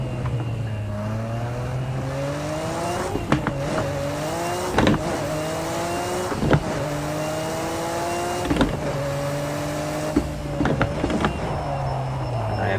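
Simulated Nissan Skyline GT-R R34 SMS-R race car engine lapping Donington Park GP in Project Cars 2, revving up through the gears with repeated sharp shifts and dips, loud and close throughout.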